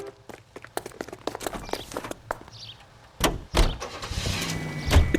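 Footsteps and clunks as someone climbs into a car in the L.A. Noire video game, a door slam, then a car engine starting and rumbling close by.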